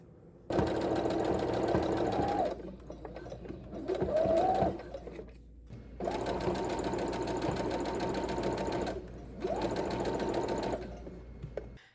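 A sewing machine stitches fabric for a handmade clothing collection, whirring in steady bursts of a few seconds each, separated by short pauses and a few quieter mechanical clicks, loud and close with no talking.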